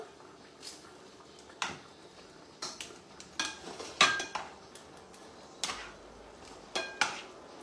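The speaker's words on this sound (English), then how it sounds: "so we've got the pasta here. I'm just going to add it to the pan" Dry pasta added to a home-cooking pan, heard as a series of sharp clatters and metallic knocks of pan and utensils, several near and fairly loud against a quiet kitchen background, with no talking.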